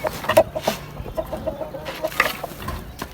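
A rooster clucking nearby in short repeated bursts, with a few louder calls standing out over faint farmyard background.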